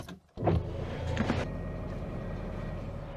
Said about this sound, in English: as you can see by the cars zooming past, this is early and it's a very busy junction is this one